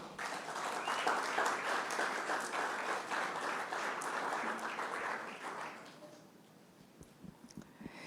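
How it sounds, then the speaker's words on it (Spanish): Church congregation applauding during a sermon, a dense wave of clapping for about six seconds that fades out, leaving quiet room sound with a few scattered claps. "¿Le pueden dar un aplauso a Dios, por favor?"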